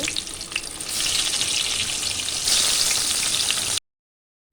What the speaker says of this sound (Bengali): দিয়ে দিচ্ছি বেগুনগুলো ভাজতে